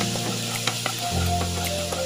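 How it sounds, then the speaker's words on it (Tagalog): Garlic browns in hot oil in a pan for sinigang na baboy, a steady close sizzle with a couple of soft stirring taps and clicks, no voices over it. "So, ayan, ginigisa ko na ang bawang."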